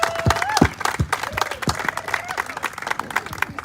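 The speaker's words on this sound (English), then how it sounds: "Big round of applause." A crowd at a pickleball facility grand opening claps and cheers, with voices calling out and whooping over the steady applause close by.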